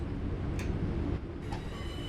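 A train in Train Sim World 5 slows to a stop with a steady low rumble of rolling wagons and a couple of faint ticks and brake hisses. Nobody talks.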